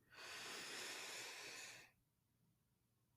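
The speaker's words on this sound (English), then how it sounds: "inhale" A slow, deep inhalation drawn in during a guided breathwork exercise, a steady airy hiss that swells quickly and holds for nearly two seconds before stopping abruptly into near silence; close and alone, with no talking.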